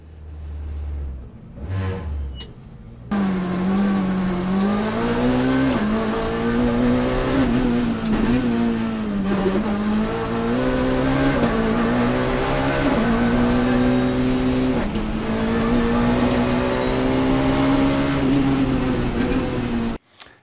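Citroën Saxo Kit Car rally car driving hard on a course near Thiviers, engine note loud and close, rising and falling steadily through gear changes for about seventeen seconds after a brief quieter start.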